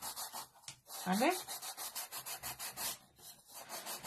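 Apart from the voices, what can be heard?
sandpaper sanding a cut edge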